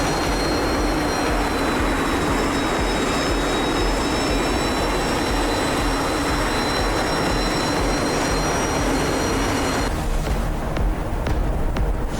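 Steady, loud roar of a jet aircraft engine in a flight simulator air show, a constant close whine and rumble that shifts in tone near the end as the plane maneuvers, with no talk.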